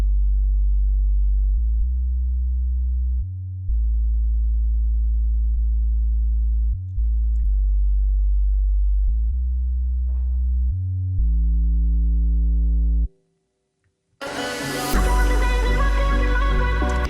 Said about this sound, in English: It's a sine wave with distortion.